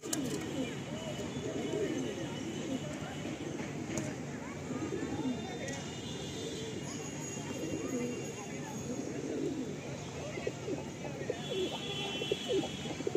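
A released pair of Madrasi pigeons coos in soft repeated rumbling calls, with bursts of wing flapping and people talking over it throughout, some clatter in the background.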